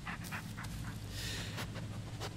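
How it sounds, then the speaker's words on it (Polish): A dog pants in the video game Blair Witch, with quick, rhythmic breathy puffs at close range over a constant low background rumble and no voice. "Gdzie jest pies? Tu jest pies."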